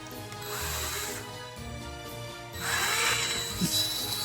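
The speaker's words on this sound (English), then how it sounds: "So now we're just going to drill to insert our leaves." A drill bores into a giant foam Halloween batwing flower to make holes for its leaves, giving a steady mechanical whirring grind in two sustained bursts, close and fairly loud with no talk.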